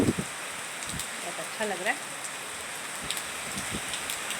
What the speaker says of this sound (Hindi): बारिश की बूंदें पड़ रही है ऊपर